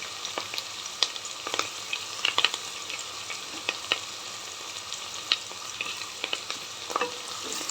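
Curry leaves and turmeric frying in a pan for drumstick dal sambar, stirred: a continuous crackling sizzle broken by irregular spoon clicks and scrapes, heard alone without speech.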